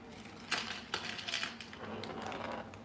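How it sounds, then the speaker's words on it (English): A small metal BB rolls across a surface among freshly unboxed upgrade parts, making faint, light rattling clicks and ticks in a quiet room, a few sharper taps standing out. "There's a metal BB that's rolling back over here."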